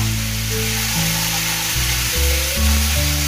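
Tomato paste stirred into a frying mustard sauce for tilapia fish, a loud continuous sizzle with scraping stirs and a hum underneath, no talking.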